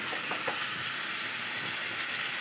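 Fish shallow-frying in a pan for a fish curry gives off a steady, even sizzle and hiss, close and constant throughout with no talk.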